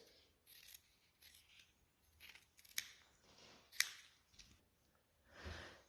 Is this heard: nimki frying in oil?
no